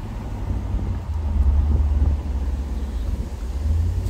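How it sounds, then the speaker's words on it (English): A 2003 Jaguar XKR engine with 34,000 miles hums smoothly from inside the cabin, a steady low drone with light wind and road noise, rising slightly in the middle and holding even throughout. "The engine just hums."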